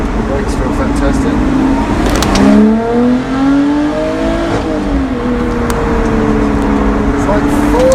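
A sports car engine in second gear revs up loudly from inside the cabin, its pitch rising in steady sweeps, easing briefly and climbing again over constant road and wind noise.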